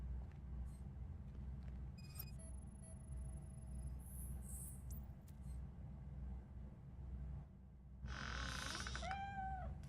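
A cat meows in a video game, a couple of short rising cries near the end over a low steady background rumble with scattered small game sounds, no talking.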